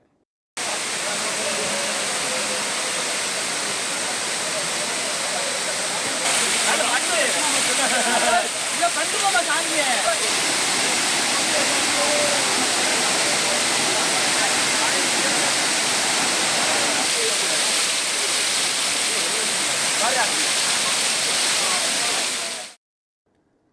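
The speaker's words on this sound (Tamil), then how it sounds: "அருவிகளில் தண்ணீர் ஆர்ப்பரித்து கொட்டுகிறது" Waterfalls in the Western Ghats hills roaring after heavy summer rain, a loud, constant broadband rush of crashing water that stays steady for about twenty seconds before cutting off.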